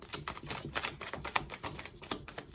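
Tarot cards being shuffled during a Sagittarius reading, a run of quick crisp riffling clicks and taps close by, steady and fairly quiet with no talking.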